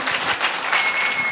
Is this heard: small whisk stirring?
no